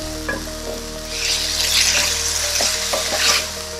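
Tomatoes stew and sizzle in a pan before canned salmon goes in, making a close, steady frying hiss with a few light utensil scrapes and clinks, and no voices.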